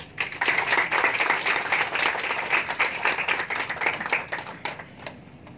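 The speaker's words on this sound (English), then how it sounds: "you can clap for yourself" Attendees at a hospitality talk with Novotel Kolkata's general manager clap for themselves, a dense, lively patter of many hands, fairly loud and even throughout before easing off near the end.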